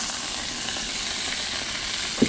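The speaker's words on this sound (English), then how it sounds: "Got a nice little sizzle there." Salmon sears skin side down in a cast iron skillet with a little oil, giving a loud, close, continuous sizzle with a single small knock near the end.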